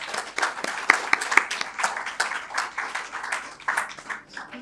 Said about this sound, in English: I would like to welcome him onto the stage with a round of applause